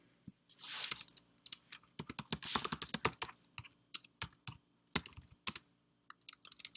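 Someone types a short header on a computer keyboard: bursts of quick, close key clicks with small gaps between them and no talking.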